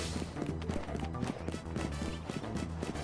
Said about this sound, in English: And I got a horse.